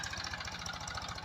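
A tractor engine runs in a wheat field while furrows are being made, a faint steady chugging idle with a low rhythmic knock and no voices.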